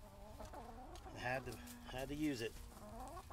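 Backyard chickens cluck and warble close by, their calls rising and falling over a brief stretch while a person speaks quietly in between.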